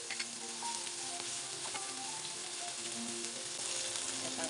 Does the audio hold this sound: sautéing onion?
yes